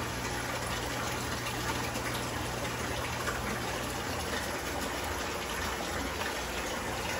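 Water from an automatic overflow water change system for an aquarium flows steadily with no pause, giving a constant, moderately loud rushing wash with a low hum beneath it and no voices.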